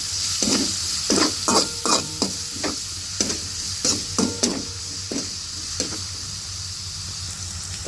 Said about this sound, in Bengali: পেঁয়াজ কুচিটা ভাজা ভাজা করে নিতে হবে একটু